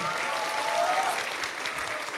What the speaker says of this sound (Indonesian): Kasih tepuk tangan dong pada yang tanya-tanya nih.